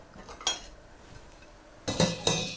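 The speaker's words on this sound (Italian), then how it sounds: "Le copriamo con un piatto" A plate set down over eggplant pieces in a colander while preparing pasta alla Norma, giving two short ceramic clinks and clatters, one near the start and a louder pair near the end, in an otherwise quiet kitchen.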